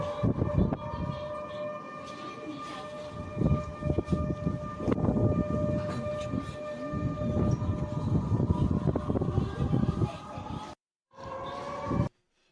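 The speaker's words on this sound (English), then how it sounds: "We can actually hear the sirens sounding over the city in this clip right here" City evacuation air raid sirens wail steadily over a city in the Russia-Ukraine war, distant and echoing, with a busy rumble of background noise before the sound cuts out briefly.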